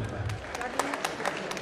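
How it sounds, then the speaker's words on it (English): A crowd applauding with scattered claps and hubbub, steady and fairly close, mixed with indistinct voices. "I think we need a round of applause for them."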